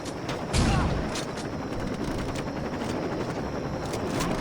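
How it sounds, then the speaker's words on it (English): A helicopter in the Saints Row 2 game: a steady rotor roar with a thudding beat, mixed with a loud gunshot burst near the start and ongoing firing, a voice speaking briefly over it. "That chopper's gotta come down."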